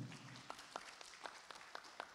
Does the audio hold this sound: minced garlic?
no